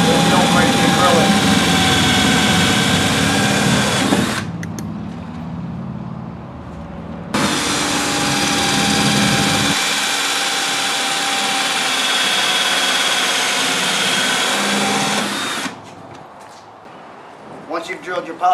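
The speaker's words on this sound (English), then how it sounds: "Use a small bit and just drill them out." A power drill whines in two long bursts separated by a brief pause, drilling pilot holes in acrylic with a small bit, loud and close, with a few clicks and handling noises after it stops.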